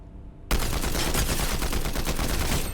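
Combat AR assault rifle fire in Fortnite, a video game: a loud, sustained stream of rapid automatic shots bursts in after a brief quieter moment and runs steadily to the end, with no talking.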